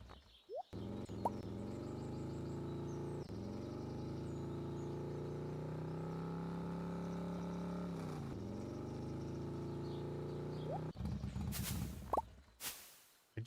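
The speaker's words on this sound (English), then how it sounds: "I do like the sound of the motorcycle." Motorcycle in the Stardew Valley video game, a low grumbling engine tone that holds, sags and shifts pitch like a downshift, with small game clicks and plops around it and no talk.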